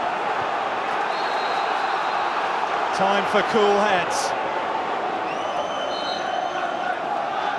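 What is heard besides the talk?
football crowd roaring at Turf Moor stadium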